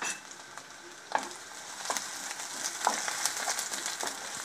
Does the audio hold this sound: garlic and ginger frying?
yes